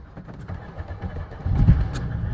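A 24-year-old Mercedes E-Class engine starts up after sitting for about a month, a brief cranking followed by a low rumbling idle that swells louder near the end, heard close up.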